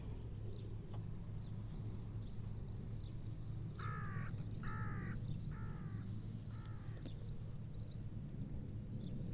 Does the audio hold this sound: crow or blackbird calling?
yes